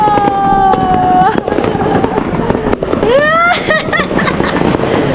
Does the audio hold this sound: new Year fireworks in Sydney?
yes